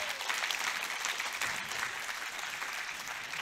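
A church congregation claps after a sermon-day performance, a sustained, even patter of many hands heard from a moderate distance, fairly soft, with no speech over it.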